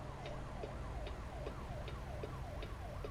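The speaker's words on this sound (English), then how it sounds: "Ignore the sirens. They're coming for somebody else." A wailing emergency siren sweeps up and down in a fast repeating yelp inside an American trucking simulator game, several even cycles over a low engine rumble, fairly faint in the mix.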